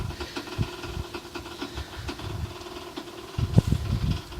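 An old engine idles with an uneven low chugging and rattling throb, fairly close, picking up into a rougher burst of knocks near the end.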